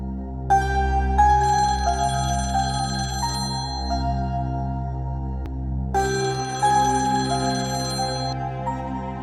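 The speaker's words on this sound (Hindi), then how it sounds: "फोन उठाओ किरण।" A phone ringtone plays a repeating melodic tune in two loud, clear bursts separated by a short pause, over a low steady background hum.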